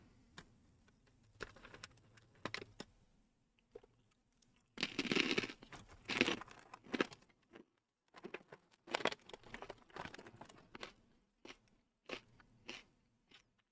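Close crunching of Snyder's of Hanover Sourdough Nibblers pretzels, a series of sharp irregular bites and chews with brief pauses between, loud and near.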